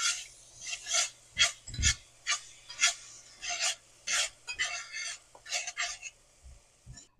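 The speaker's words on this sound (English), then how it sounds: "I'm using this whisk." Whisk beating thick batter or dough in a bowl, a steady run of close, raspy scraping strokes, with a faint hum underneath.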